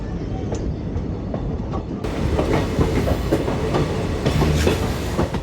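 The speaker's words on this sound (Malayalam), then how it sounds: "ഈ ട്രെയിനും ഇലക്ട്രിക് മോട്ടോറിലാണ് പ്രവർത്തിക്കുന്നത്." A diesel-electric train runs on the Kollam to Sengottai line, with loud steady rolling rumble and rhythmic wheel clatter on the rails, growing brighter partway through.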